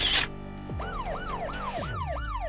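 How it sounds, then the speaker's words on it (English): A military ambulance siren wails in repeated rising-and-falling sweeps, five quick cycles, loud and clear after a brief burst of other sound at the start, with no voices. "This is a military ambulance"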